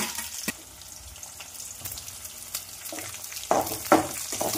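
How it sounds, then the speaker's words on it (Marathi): Onion and green chili frying in oil with cumin, curry leaves and peanuts, a low continuous sizzle with occasional louder stirring scrapes toward the end, heard up close. "त्यानंतर कांदा आणि मिरची टाकायची।"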